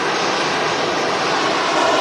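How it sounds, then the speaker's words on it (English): Etihad Boeing 787 Dreamliner jet at Manchester Airport, a loud, steady broadband engine roar with no breaks, heard alone without talk. "And there she is, the Etihad Dreamliner in the green liner scheme."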